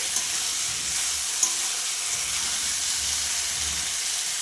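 Raw jackfruit and spice masala fry hard in a pan for a shrimp curry, giving a steady, close, broadband sizzle with faint stirring scrapes throughout and no talk.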